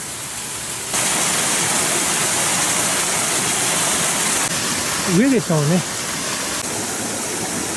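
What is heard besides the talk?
mountain river flowing at a crossing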